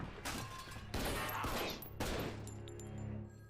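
A single sharp gunshot in a TV drama scene, amid tense dialogue in a law-enforcement standoff, with a loud crack near the start and further bursts of sound through a short, reverberant stretch.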